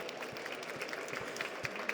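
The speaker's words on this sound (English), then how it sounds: "Please give him a warm applause" An audience at a panel on green air transport applauds a panelist: soft, steady, fairly distant clapping from a crowd with no voices over it.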